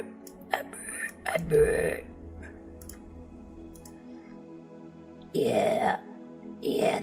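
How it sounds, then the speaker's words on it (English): A person burps in a quiet room, a few soft belches spaced apart, close to the microphone, with faint clicks and breathy sounds between them. "I burped."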